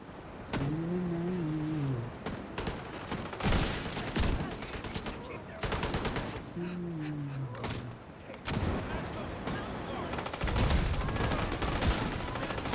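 Repeated video game gunfire rakes toward the player in rapid, dense bursts that keep going through the whole stretch, with a voice talking over it in a couple of places.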